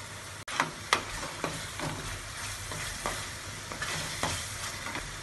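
Chicken fries Andhra style in a pan, a steady sizzle broken by repeated scraping stirs of a spoon against the metal at irregular intervals, close up with no talk.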